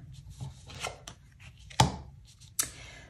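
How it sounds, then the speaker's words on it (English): A tarot card is flipped over on a table during a solitary tarot card game, giving a few faint papery taps and slides. One sharp snap stands out midway and another comes near the end. "I am going to flip the first card over"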